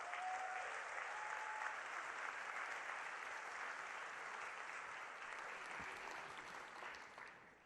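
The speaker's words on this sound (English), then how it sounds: "let's give them a round of applause for the amazing judges" Sustained applause from an audience honouring the judges at the Hult Prize 2019 tenth-anniversary event, a soft, even wash of many hands that holds steady for several seconds before slowly thinning toward the end.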